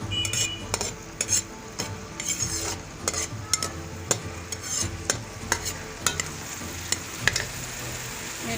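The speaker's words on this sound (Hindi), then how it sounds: "ऑयल मैंने गरम करने के लिए रख दिए 2 बड़े चम्मच और इसमें प्याज शामिल कर रही हूँ" Onions frying in two tablespoons of hot oil in a pan, a steady crackling sizzle with frequent sharp clinks and scrapes of a spoon stirring against the pan, close and fairly loud throughout.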